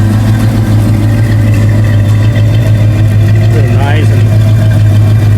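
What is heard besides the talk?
Ford Fox Body Mustang dual exhaust rumbling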